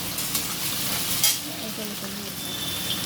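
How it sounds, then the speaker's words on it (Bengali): Potatoes sizzle steadily and close in a pan, with a quick stirring scrape early on and faint voice-like murmurs in the background. "আলু ভাজছি আলু ভাজা বসিয়েছি"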